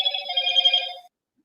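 A telephone rings in steady warbling bursts for about a second, with no talk over it, then stops.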